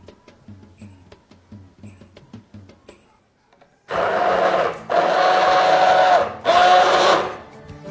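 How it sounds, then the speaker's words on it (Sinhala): A hand blender mixes about 400 ml of coconut milk for microwave kalu dodol, whirring loudly in three close bursts with brief pauses, after a stretch of quieter handling clatter. "මේ විදිහට අපි හෑන්ඩ් බ්ලෙන්ඩ් එක යූස් කරලා මික්ස් කරගත්තට පස්සේ"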